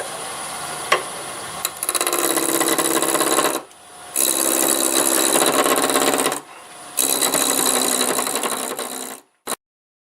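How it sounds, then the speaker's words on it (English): A wood lathe spinning at 980 RPM as a spindle roughing gouge rounds a blank into a cylinder, giving three steady whirring, rasping passes separated by brief quiet gaps, close and fairly loud. "I'm going to use the spindle roughing gouge and see if we can just make a cylinder out of this to start with."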